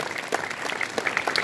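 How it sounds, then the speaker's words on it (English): A school assembly audience claps for honoured smart students, a brisk, fairly loud patter of many hands with scattered sharper claps over a short stretch. "Give them a big round of applause once."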